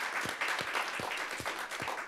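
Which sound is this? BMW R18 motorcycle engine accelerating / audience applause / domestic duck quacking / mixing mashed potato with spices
audience applause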